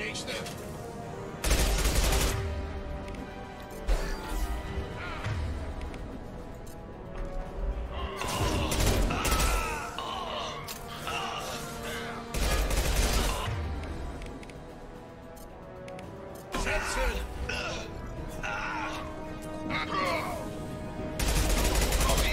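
Gunfire in the video game Mass Effect 2, repeated bursts of shots and booms coming in clusters across twenty seconds, loud and near, with a voice heard between some of the volleys.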